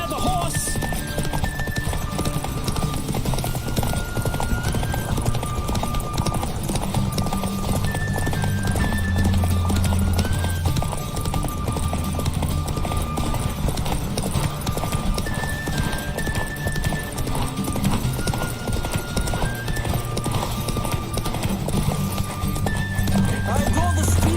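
A horse gallops in The Witcher 3 with constant near clip-clop hoofbeats, several loud neighs and whinnies breaking through, layered over steady game music and occasional voices.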